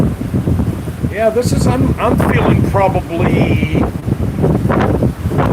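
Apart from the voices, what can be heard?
strong wind gusts at the Atlantic shore during Hurricane Idalia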